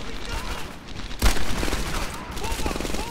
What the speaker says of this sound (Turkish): Bak tam adamı kafaya sıkıyorum.